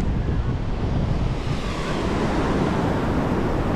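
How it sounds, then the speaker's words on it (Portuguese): Steady roar of wind buffeting the microphone over the continuous wash of surf on a beach at Tamandaré, dense and loud throughout with no speech. "O vento não tá muito forte não, mas mesmo assim ainda causa um certo ruído."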